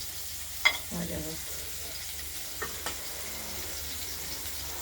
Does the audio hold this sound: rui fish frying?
yes